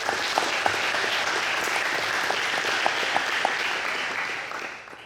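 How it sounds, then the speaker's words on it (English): Steady applause for parents at an athletics signing day, an even, dense crowd clapping with a few sharper claps popping out, then fading away at the end. "So again, a round of applause for all the parents."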